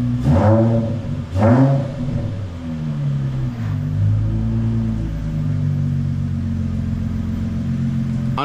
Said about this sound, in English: just a simple muffler delete on a VQ sounds pretty good